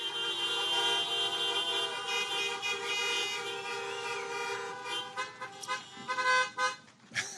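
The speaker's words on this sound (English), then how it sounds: "love the creative honking" Car horns honk repeatedly at an outdoor drive-in campaign rally in Dallas, Pennsylvania, sustained blaring tones layered together and then breaking into short rhythmic toots, loud and close, with crowd noise underneath.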